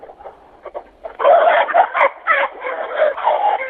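Chickens and a rooster cluck and squawk loudly inside a henhouse, with a few soft clucks first and then a dense, agitated burst of calls close by.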